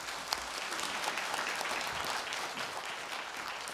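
A seminar audience in a hall bursts into a short, even round of applause, many hands clapping together at moderate volume.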